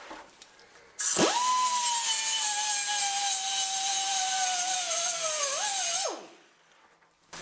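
A weld on a sheet metal panel is ground down in one steady, loud, close whine lasting about five seconds. It spins up sharply, dips and wavers near the end, then winds down to quiet.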